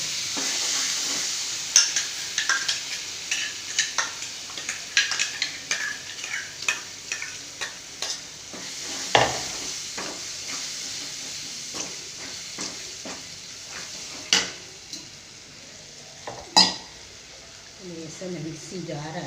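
Ground chutney paste sizzles and fries in a pan with curry leaves and asafoetida, a spoon scraping and stirring in irregular strokes while a person talks over the cooking.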